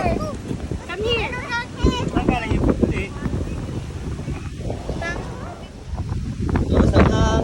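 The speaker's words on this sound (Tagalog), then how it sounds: "Lakas ang hangin." Strong wind at Sampaloc Lake buffets the microphone with a steady rumbling roar while several people talk over it.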